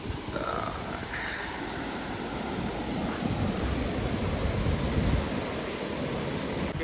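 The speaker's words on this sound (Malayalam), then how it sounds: "വെള്ളം ഈ പാലത്തിൻ്റെ അടിയിലൂടെ ഇങ്ങനെ വന്ന് ഇങ്ങനെ പോകുന്നു" Continuous rushing water flowing under a bridge on a monsoon hill route near Igatpuri, a broad steady roar with slight swells, no voices.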